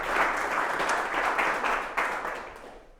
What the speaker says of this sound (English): can we give them a round of applause for sharing their stories?